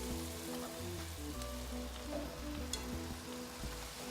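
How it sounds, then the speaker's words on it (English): Boiled rice is mixed with tomato masala of onions and spices in a pan, making a gentle, continuous sizzle with faint stirring under a steady background hum. "I'm going to mix the rice with the masala nicely"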